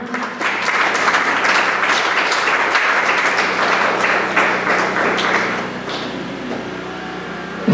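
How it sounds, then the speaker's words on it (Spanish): A church congregation at a charismatic service applauds loudly and steadily for several seconds, dense clapping filling the room before easing slightly toward the end. "Aplausos al Señor."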